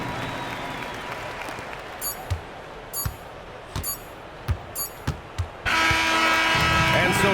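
An arena crowd in the NBA 2K26 basketball video game bursts into loud, sustained cheering and applause in the final seconds, after a stretch of scattered thuds and squeaks with faint voices.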